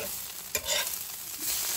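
Eggs frying in an overheated pan, a soft close sizzle broken by a quick scrape of the spatula and brief louder bursts as the egg is stirred, no voices.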